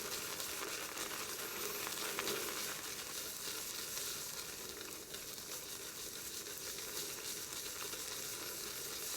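A shaving brush is loaded vigorously on a puck of shaving soap, making a steady wet, hissing swish that continues unbroken and fairly faint, with no voices.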